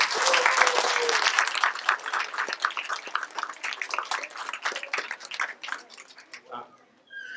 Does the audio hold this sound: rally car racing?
no